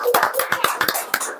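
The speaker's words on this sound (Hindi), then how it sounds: "आइए ताली बजा के परमेश्वर का धन्यवाद करते हैं" A church congregation clapping their hands in thanks to God, a quick run of sharp claps over about a second and a half, fairly loud and close.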